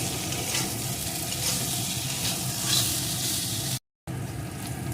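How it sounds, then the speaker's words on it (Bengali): Cauliflower fries in a pan with a little sugar added, a steady close sizzle with faint stirring scrapes, continuous and alone before a brief dropout. "এখন আবারও দুই তিন মিনিট আমি ভেজে নেব"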